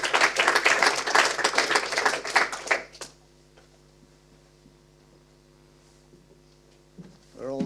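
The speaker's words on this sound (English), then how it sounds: "So a warm round of applause" A short burst of audience clapping at a safety conference fades out after about three seconds, leaving near silence with a faint hum before a brief rustle at the end.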